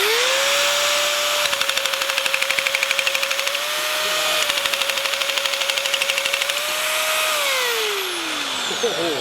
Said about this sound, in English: Now we're cutting 3/16 with our N500 nibbler.